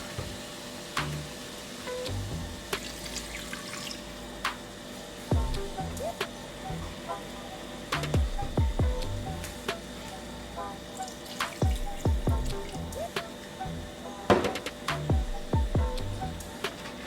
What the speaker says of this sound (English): I'm going to add the water to it now.